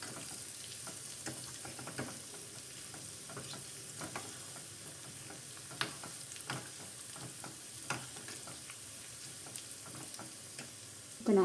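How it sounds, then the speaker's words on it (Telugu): Garlic, cumin and mustard seeds fry in hot oil for a raw mango pickle, giving a steady close sizzle throughout. Light crackles, pops and occasional utensil clicks sit over it, and no voices are heard. "ఇప్పుడు ఇది ఫ్రై అవుతుంటే ఇందులో ఒక 1/2 స్పూను జీలకర్ర, ఒక 1/2 స్పూను ఆవాలు వేసుకొని ఇది కూడా ఫ్రై చేసుకోవాలన్నమాట"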